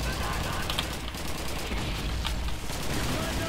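Sustained gunfire from a World War II shooter, Call of Duty 2, with steady dense crackle and scattered sharper shots, continuous throughout at moderate level with a voice faintly mixed in.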